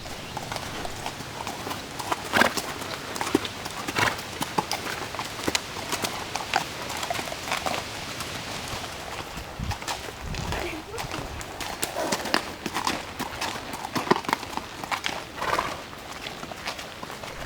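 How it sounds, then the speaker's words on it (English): A lesson horse clip-clopping along a trail, with a steady rhythm of close, crisp hoofbeats throughout while a person talks over them. "this is Breezy, and she's one of the lesson horses here at Brecksville."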